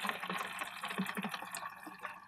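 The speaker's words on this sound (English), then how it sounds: "add that warm water into your plastic tub" Warm water pours steadily into a plastic tub, a continuous close splashing and gurgling stream lasting a couple of seconds, with no voices over it.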